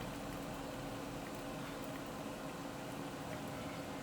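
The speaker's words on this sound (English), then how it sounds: "It's still sizzling." Continuous soft crackling and bubbling of food sizzling in a Ninja Foodi cooker, steady and fairly quiet throughout.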